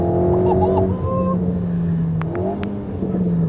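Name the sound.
Alpine A110 GT car engine accelerating out of corners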